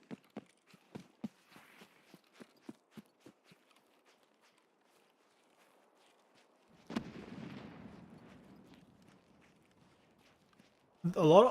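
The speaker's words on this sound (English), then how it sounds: "All those explosions are making me a little nervous." Distant explosions rumble in the shooter game Escape from Tarkov: a regular series of sharp dull thuds fading over several seconds, then one louder blast with a long rumbling tail, and a voice briefly at the end.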